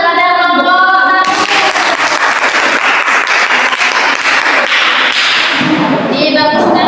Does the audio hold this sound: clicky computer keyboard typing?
no